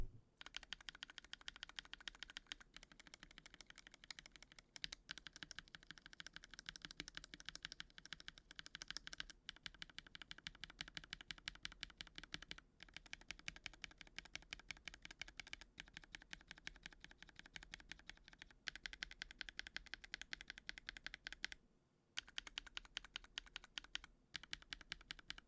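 Steady typing on a YC66 keyboard fitted with KNCKeys Green Jacket linear switches and Artifact Noir keycaps, a continuous run of close, crisp keystrokes with a few brief pauses and no talking.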